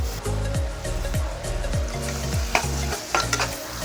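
Tomatoes going into a pan of sizzling seeraga samba rice vegetable pulao, stirred with a spoon in repeated scraping strokes over a steady loud fry, close up with no talk.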